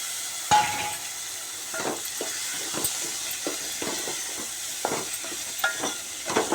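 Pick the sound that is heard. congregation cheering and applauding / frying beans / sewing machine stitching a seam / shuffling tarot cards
frying beans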